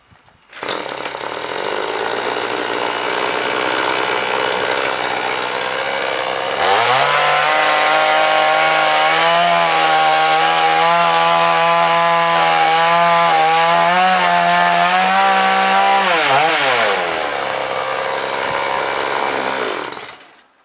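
A chainsaw runs loudly for about twenty seconds, its engine note dropping as it bites into wood, then revving back up before cutting off.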